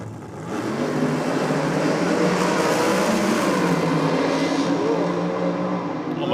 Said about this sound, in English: McCormack just spun the tyres in the dragster